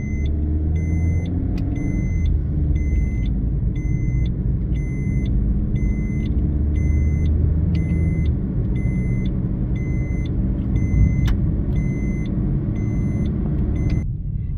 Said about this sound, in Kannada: ಈಗ ನಾನು ಡ್ರೈವ್ ಮಾಡ್ತಾಯಿದ್ದೀನಿ. ಸೊ ಮ್ಯಾನ್ಯುವಲಲ್ಲಿ ಇಟ್ಟಿದ್ದೀನಿ, ಪ್ಯಾಡಲ್ ಶಿಫ್ಟರ್ಸ್ ಯೂಸ್ ಮಾಡೋಣ ಬನ್ನಿ.